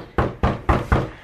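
Four firm knocks on a door land in an even rhythm, loud and close, each with a short hollow ring-out.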